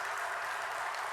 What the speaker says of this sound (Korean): 한 번 더 박수를 보내겠습니다